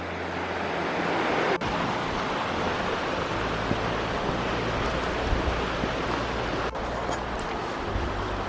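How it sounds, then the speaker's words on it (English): High, fast-flowing river in Grassington, Yorkshire, swollen after heavy rain, a steady broadband rush of water that stays loud and continuous throughout with no voices. "River's high from all the rain we've had lately."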